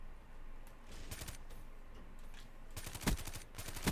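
The Dingo light machine gun in Black Ops 3 fires short, rapid bursts of gunfire: one brief volley, then a longer rattling string near the end, fairly quiet and with no talk.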